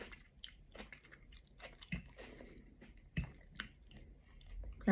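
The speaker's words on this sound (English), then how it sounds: "We're going to taste the plantain now, see how it came out." Someone quietly chews a mouthful of mashed green plantain with egg and fish. Soft, close, wet bites and squishy mastication come in irregular bursts with brief pauses between them.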